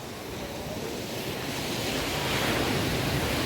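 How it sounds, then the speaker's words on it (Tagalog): Steady roar of ocean surf, building slightly louder toward the end, with wind noise and no voices. "Ayan ang alon"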